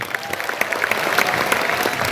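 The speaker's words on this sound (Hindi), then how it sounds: "एक बार जोरदार तालियां।" Loud applause from an audience at a talk with a Bollywood actor, sharp individual claps forming a brisk, steady round.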